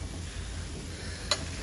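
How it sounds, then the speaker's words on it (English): Seekh kebab sizzles on a hot plate in a restaurant, a steady low hiss with one brief sharp crackle near the end. "it's so hot and sizzling."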